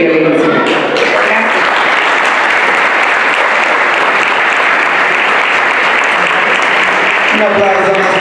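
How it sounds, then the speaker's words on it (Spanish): A crowd at a school anti-violence program launch bursts into loud, sustained applause, a dense roar of clapping that swells and holds steady, with a speaker's voice briefly audible at the start and end. "Un aplauso más fuerte para la coordinadora."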